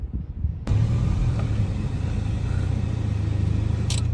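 A Toyota Vios at a gymkhana track session: a loud, steady engine rumble starts abruptly and holds close and constant throughout.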